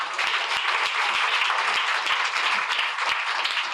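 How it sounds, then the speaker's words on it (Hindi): Church congregation at a worship service clapping loudly together, a dense burst of many hands with sharp individual claps standing out, close and sustained throughout, no talking. "जोर से ताली बजाओ"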